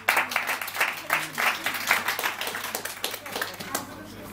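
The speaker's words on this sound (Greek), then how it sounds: "ας δώσουμε ένα χειροκρότημα στους ισχυρούς χολερικούς" An audience at a personality-types seminar breaks into lively applause, many hands clapping in a dense, continuous burst for over four seconds, with a murmur of voices mixed in.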